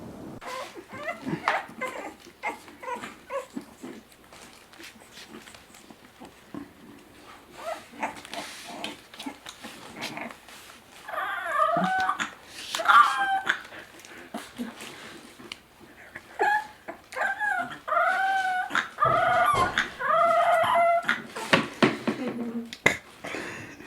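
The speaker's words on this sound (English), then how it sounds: "this next video of a bulldog puppy attempting to howl" A small bulldog puppy lets out wobbly, high-pitched yowling howls in two stretches, with soft clicks and rustling filling the gaps between.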